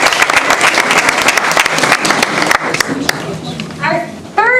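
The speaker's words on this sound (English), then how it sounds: "Let's give our 20 years a round of applause." An audience at a monthly school board meeting breaks into dense, loud clapping that goes on for a few seconds before thinning out, with scattered voices and cheers near the end.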